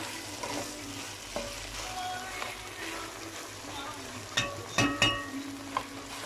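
Rice is roasted in a pan before water goes in, a soft continuous frying sizzle with scattered scraping and clinking stirring sounds, a few louder clatters near the end, and a voice talking quietly under it.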